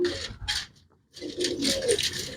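Domestic pigeons coo in soft, throaty bursts close by, with a brief pause in the middle before the cooing resumes, overlapping and rising again. No one speaks.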